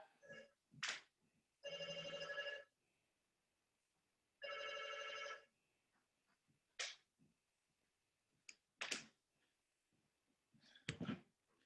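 A telephone bell rings in two separate bursts, each about a second long, with quiet clicks and handling noises around them in an otherwise still room.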